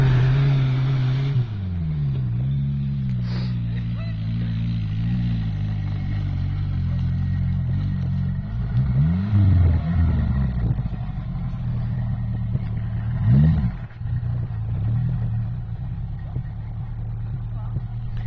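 A Renault 4L van prepared as a rally car runs its engine at moderate volume, idling with several rising and falling revs, while someone talks over it throughout.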